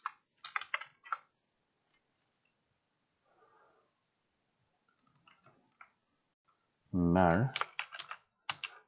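Keys clack on a computer keyboard while text is entered during a Maya 3D modelling session. A quick cluster of keystrokes comes first, then sparse scattered clicks after a pause, and a voice speaks briefly near the end.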